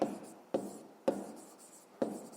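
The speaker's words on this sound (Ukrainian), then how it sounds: "Записуємо тоді." Pen strokes on paper while working a fifth-grade maths exercise, four short scratchy strokes at roughly half-second intervals, each a sharp onset trailing off, close and fairly quiet.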